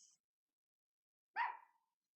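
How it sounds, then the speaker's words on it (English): A single dog bark picked up by a security camera outdoors at night, short and moderately close after a faint brief high chirp, with silence around it. "Are those dogs? Were those dogs?"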